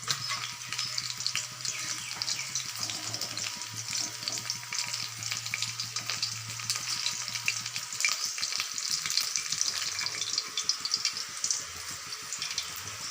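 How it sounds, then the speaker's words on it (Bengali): Rohu fish pieces fry in a pan with a steady, crackling sizzle that carries through the whole stretch, with no talking over it. "রুই মাছ কমপ্লিট ভাজা"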